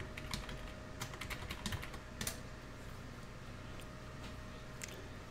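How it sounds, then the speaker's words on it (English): Quick, light keystrokes on a computer keyboard as a password is typed, a close run of soft clicks in uneven bursts over a faint steady hum. "I typed in the incorrect password"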